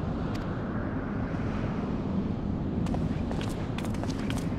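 A magical wall of wind in a fantasy video game, heard as a steady, loud roaring rush of air with a low rumble, holding constant throughout and crackling with faint high gusts toward the end.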